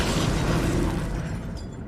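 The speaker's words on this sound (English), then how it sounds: "I wonder if it was the bloater explosion that killed the feral." A bloater zombie bursting in State of Decay 2 gameplay, a loud, continuous boom that rumbles heavily across the whole moment before slowly easing off, with no voices over it.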